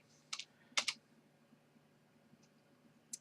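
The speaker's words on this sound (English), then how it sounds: "Press enter here, and you need to type the password." A computer keyboard being typed on during a Linux server setup, a few quiet close keystrokes in short clusters with pauses between them over a low hum.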